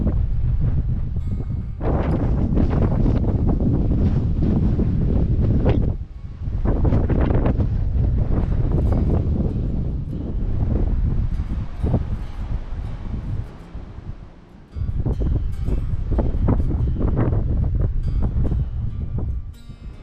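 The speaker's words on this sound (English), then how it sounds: "Well, it's a bit windy up here." Heavy gusts batter the microphone on an exposed hilltop section of the Standing Stone Trail, with loud buffeting rumbles that drop away briefly and then return strongly.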